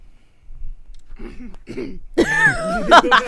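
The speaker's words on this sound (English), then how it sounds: "Had to clear her throat" A throaty rasp of someone clearing their throat, building from soft grunts into a louder, voiced hack up close.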